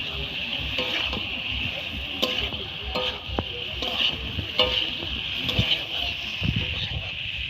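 Boiled taro pieces sizzle and get stirred in spiced oil in a pan for a chela fish curry. Steady frying crackle runs throughout, with scattered scraping clicks from the spoon and no talking.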